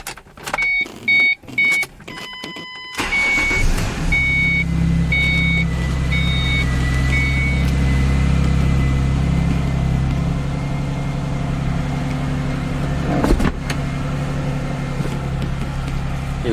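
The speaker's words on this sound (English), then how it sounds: "go ahead and start the car." A few electronic chimes, then a 2005 V6 Ford Mustang's engine cranks and catches after a fuel pump replacement, settling into a steady, close, low idle that runs to the end.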